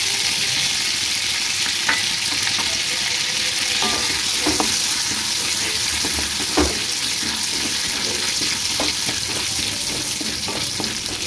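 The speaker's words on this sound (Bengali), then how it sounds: "এই চিংড়ি মাছ ভাজার তেলেই আমি সাদা জিরে," Cumin seeds and bay leaf frying in oil left over from frying prawns, a continuous loud hissing sizzle with scattered scrapes and clinks of a spoon against the pan.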